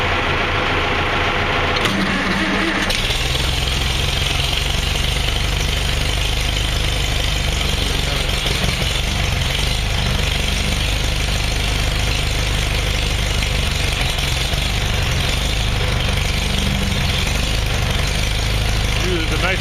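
A Farmall Super A tractor engine catches on choke on a cold winter morning and settles into a loud, steady, close idle that continues throughout, with a voice talking over it.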